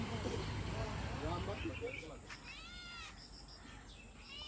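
A cat in a house in Alibag meows a few times close by, drawn-out wavering cries following a stretch of murmured talk and background noise.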